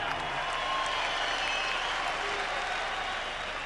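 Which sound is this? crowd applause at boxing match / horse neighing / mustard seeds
crowd applause at boxing match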